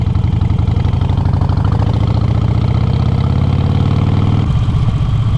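A Harley-Davidson Sportster 1200 V-twin motorcycle engine runs with a loud, steady, throbbing rumble that shifts slightly in pitch near the end.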